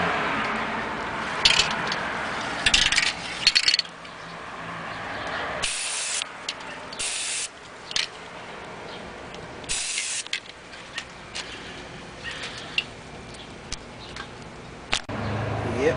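Short bursts of hissing aerosol spray paint coat a damaged antique bottle, several spurts separated by quiet pauses and light handling ticks and clicks nearby.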